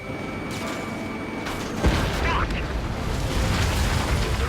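A missile explosion from the war strategy game Lost Kingdom: a sudden boom bursts out near the middle and then rolls into a sustained, dense rumble of battle noise.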